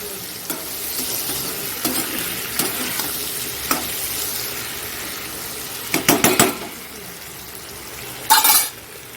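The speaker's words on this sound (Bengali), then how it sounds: "আলুটা একটু ভাজা হোক" Potato pieces fry alongside pointed gourd in a pan under a continuous sizzle, punctuated by scattered spatula scrapes and a few quick clattering bursts of stirring.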